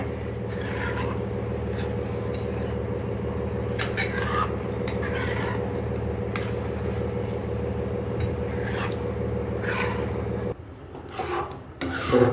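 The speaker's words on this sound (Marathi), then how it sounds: "याला मिक्स करत राहायचं आहे, स्टर करत राहायचं आहे, जेणे की ते चिटकणार नाही खाली." A spoon stirs a thickening gram flour mixture in a pan, making soft repeated scraping and rubbing strokes over a constant low hum, with a brief quieter patch and clinks near the end.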